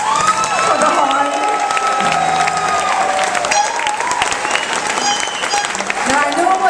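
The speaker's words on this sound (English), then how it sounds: "Can we have a big clap for the horn?" A crowd at a live gig by The Vaselines applauds and cheers for the horn player, loud continuous clapping with whoops and shouts and voices over the top.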